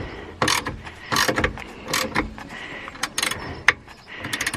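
A spanner works a bolt on a Subaru Impreza rear end while fitting Whiteline supports, giving irregular metallic clicks, ratcheting taps and clunks at close range, moderately loud with brief gaps between them.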